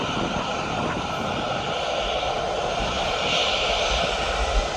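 Jet airliner departing Birmingham Airport for Rostock, a steady loud roar of engines with a broad rushing noise that holds constant throughout, no voices.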